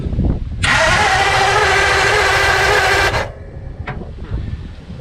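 A 1952 Ford F1 flathead engine cranks over on the starter, a loud, steady whirring drone for about two and a half seconds before cutting off, followed by a brief click and quieter shop noise.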